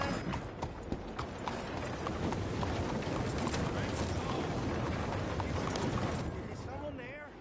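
Horse hooves in Red Dead Redemption 2 clip-clop in a steady walking rhythm, close and clear over a low background hum, ending with a brief high whinny-like sound.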